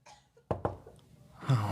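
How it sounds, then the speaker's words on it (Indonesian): Two quick, close coughs in a row, followed by a voice starting to speak. "asa batuk gitu"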